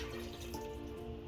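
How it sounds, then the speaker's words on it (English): Vegetable stock poured into a pot for vegan tonkotsu ramen, a steady close liquid splash and trickle running continuously for about a second with no talk. "Then we're adding 2 cups of vegetable stock."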